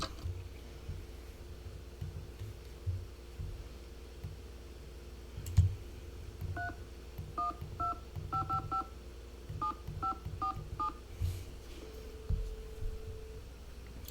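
Telephone keypad tones in a Nancy Drew video game, a quick run of short dialing beeps in small clusters amid soft clicks and a low background hum, with no talking.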